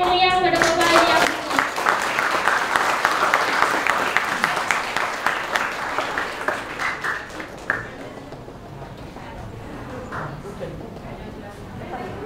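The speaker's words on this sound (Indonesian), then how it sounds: "tepuk tangan yang meriah pada Bapak Haji Abdul." A crowd applauds warmly for an honored elderly guest, Bapak Haji Abdul, the dense clapping loud at first and gradually thinning and fading over about twelve seconds.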